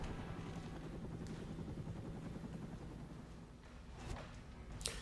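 A helicopter in the Stranglehold video game thrums with a low, steady rotor drone at moderate distance, with a few sharp bursts cutting in toward the end.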